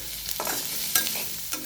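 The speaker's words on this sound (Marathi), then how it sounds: "कांदा भाजत राहील तोपर्यंत आपण मीठ ॲड करून घेऊ." Onions fry in a pan with rock salt added, a continuous sizzle punctuated by a few scraping stir strokes, fairly quiet and close, with no speech.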